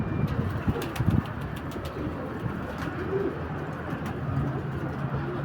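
Pigeons coo softly and steadily inside a loft, a close, continuous murmur of cooing with a few brief sharper chirps and flutters early on, and no talking.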